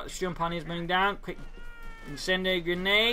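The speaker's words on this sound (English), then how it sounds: "that's the cat, which has been gone for like 4 to 5 days" A cat meows repeatedly from behind a glass door, the calls rising and falling in long tonal wails, loud and close amid a strategy-game voice commentary that talks over it.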